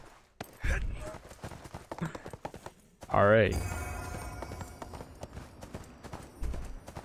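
Horse hooves in the video game ArcheAge clip-clop in a steady rhythm, and a whinny-like call rises partway through. The sounds are close, and a person speaks briefly over them.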